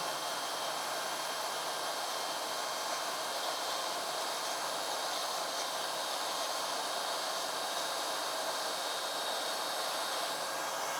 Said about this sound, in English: I've got a belt sander here